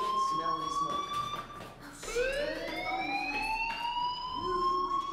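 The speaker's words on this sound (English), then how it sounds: "do you hear that fire alarm? That means you should be outside." A fire alarm blares in the game Life is Strange, a loud wavering siren-like tone that sweeps upward and continues throughout while voices talk over it.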